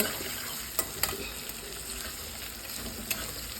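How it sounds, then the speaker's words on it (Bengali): Eggplant slices fry in a pan with a steady, even sizzle, joined by a few faint clicks of utensils against the pan, heard up close with no voices. "এখানে বেগুন ভাজি হচ্ছে বেগুন ভাজি আর ইলিশ মাছ"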